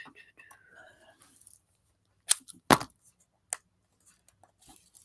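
A couple of short scissor snips cut through lime green paper in a mixed media craft session, brief and close, following soft murmured speech.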